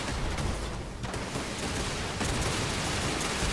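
Enclave missile turrets firing in the video game Fallout 76, a dense, loud barrage of bursts and blasts in steady noisy waves with a brief lull near the one-second mark, no talk.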